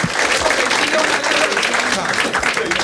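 An audience at a Marathi stand-up comedy show claps for two people, dense steady applause mixed with crowd voices throughout.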